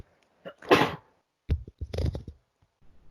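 A sharp, breathy sneeze up close, followed moments later by a short burst of speech.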